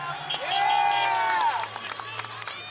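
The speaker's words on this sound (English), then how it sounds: "And that's lifted the crowd." Crowd at an Adelaide Footy League Australian rules football match between Rostrevor Old Collegians and Port District swells into loud cheering and whooping, peaking midway, then easing to a scattered murmur with claps; a commentator's voice runs beneath.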